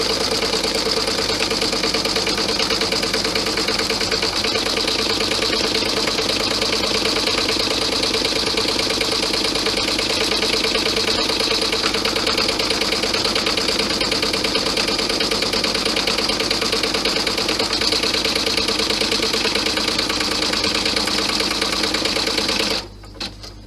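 An embroidery machine stitches a pocket onto a fabric lining for a cloth clutch, a steady fast mechanical whirr with rapid rhythmic needle clatter, loud and close and continuous until it stops abruptly near the end.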